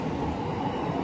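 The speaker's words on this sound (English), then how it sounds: "Oh, that's a train." A train rumbles past at night at Tokyo DisneySea's Fantasy Springs, a dense, steady, fairly loud rolling roar filling the whole moment with no voices over it.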